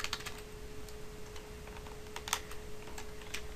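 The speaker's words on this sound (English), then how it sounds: "And then you want to type in print," Quick clicking keystrokes on a computer keyboard while entering Python code, irregular bursts of light taps with a faint steady electrical hum underneath and no talking.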